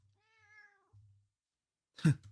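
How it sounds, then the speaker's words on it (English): A house cat meows once in a drawn-out, rising and falling call, close to the microphone, then after a pause gives a short, louder, rougher second meow. A low hum sits underneath and no one speaks. "this cat just keeps jumping on my goddamn lap"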